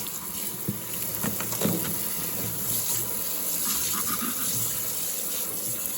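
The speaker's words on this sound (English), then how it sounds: "I'm gonna start off by rinsing off my crab" Crab meat being rinsed under a running kitchen tap, a steady broadband gush of water with small splashes and handling knocks throughout, close and fairly loud, no voices.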